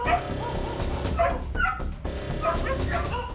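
Several dogs bark and yip near a house at night during a crocodile attack on a dog, the barks and whimpers close and agitated, overlapping in uneven bursts across the whole stretch.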